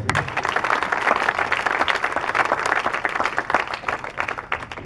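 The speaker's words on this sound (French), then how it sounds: "Acclamons le Seigneur" A church congregation at an evangelism campaign's final day claps and applauds together, a loud, dense and sustained burst of many hands filling the room without a break.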